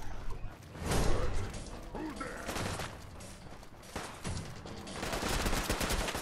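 Assault rifle fire from Gunners in Fallout 4 comes in rapid bursts, loud and near, among shifting gunfire and mechanical noises, with a voice talking faintly now and then.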